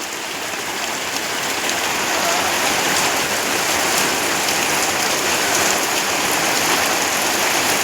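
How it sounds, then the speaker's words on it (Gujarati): Heavy monsoon rain pours steadily and loudly, with water streaming off roof eaves in a dense, unbroken hiss that holds even from start to finish with no voices. "મિત્રો વરસાદ થઈ ગયો હે ફૂલ ચાલુ, અટાણે ધૂમ ધખર જો વરસાદ."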